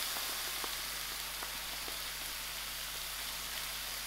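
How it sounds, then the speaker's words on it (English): Tomato puree going into prawn chutney in a hot pan: a steady, soft sizzling hiss that stays even and fairly quiet, with a few faint crackles. "I'm adding in my tomato puree."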